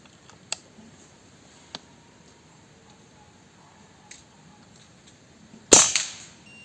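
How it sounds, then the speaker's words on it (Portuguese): A single sharp crack from a PCP air rifle firing a lead pellet stands out clearly and is followed by a brief ringing decay, with a few faint ticks before it in an otherwise quiet setting. "E a gente vai fazer um segundo disparo para ver o spread nessas condições"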